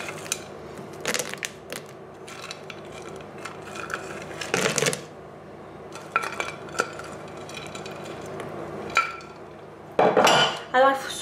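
A spoon scrapes and clinks against a bowl while red berries are folded gently into cupcake batter, with intermittent stirring bursts and pauses, close and fairly quiet.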